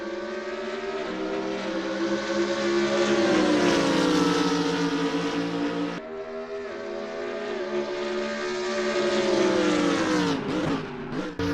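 Several race cars launching from the start at Silverstone in a racing video game, loud overlapping engine whine rising and shifting as the cars accelerate away together, continuous and close.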